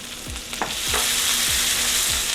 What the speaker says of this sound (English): I'm also gonna add my diced tomato.